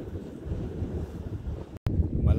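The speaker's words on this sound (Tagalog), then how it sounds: "Kasi malakas yung hangin guys." Strong wind blasts across a microphone at the seaside, a loud, gusty roar that drops out briefly before surging again, with faint surf underneath.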